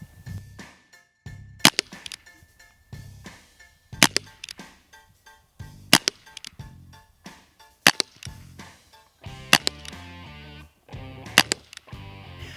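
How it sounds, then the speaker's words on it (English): Umarex Colt Python CO2 air pistol fired repeatedly at a target, sharp loud pops coming in uneven clusters with short pauses, each crack followed by a faint metallic ring, no talking. "show y'all how many shots on average you can get out of one CO2 cartridge"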